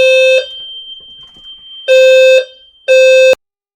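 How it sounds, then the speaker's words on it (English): A building fire alarm under test blares in loud, shrill electronic bursts, one cut off at the start and two more full blasts after a short gap, with no talking over it. "Our building has a scheduled test of the fire alarm today."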